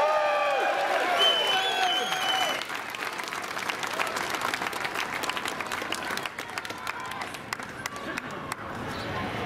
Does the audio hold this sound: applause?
yes